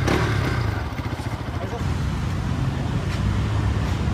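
Pulsar RS200 2024 motorcycle engine running close by on a humid, wet day, a steady loud low rumble with pulsing exhaust throb throughout, no gaps.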